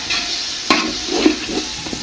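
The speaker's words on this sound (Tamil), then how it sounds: "கிளறும் போது அடி பிடிக்காம அளவுக்கு பண்ணிங்க" Tomato masala for a traditional chicken biryani fries in a pot as a spoon stirs it, giving several sharp scraping clatters over a close, steady sizzle with no talking.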